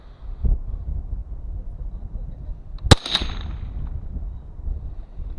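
A single sharp rifle shot fires close by at a sticker target, the rifle freshly sighted in. The crack stands alone, with a brief ring after it over quiet outdoor background noise.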